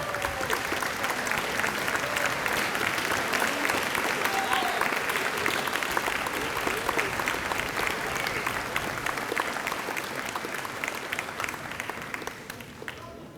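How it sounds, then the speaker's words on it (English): A high school graduation audience in Richford gives a round of applause for the parents, faculty and staff of both schools, sustained clapping filling the hall and tapering slightly near the end. "could all the parents and the faculty and staff of both schools stand up so we can give them a round of applause"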